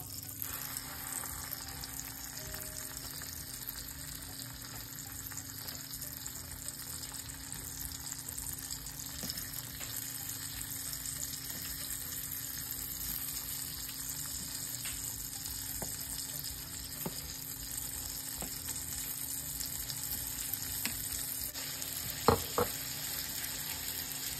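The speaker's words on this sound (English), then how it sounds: "make us a fried bologna sandwich" Bologna slices fry in a pan for a sandwich at a home stove: a steady, faint sizzle runs throughout, with a few small clinks of utensils near the end.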